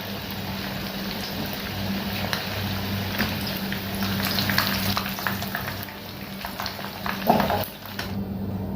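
Chicken 65 pieces fry steadily in hot oil with a constant close sizzle and crackle. Scraping stirs come and go, and a louder clatter lands near the end, with no voices.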